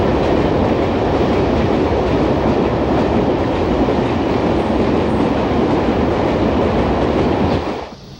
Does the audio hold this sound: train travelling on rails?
yes